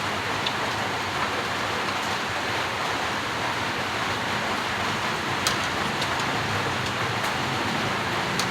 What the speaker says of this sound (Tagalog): Ulan kayo guys, oy, ulan kayo.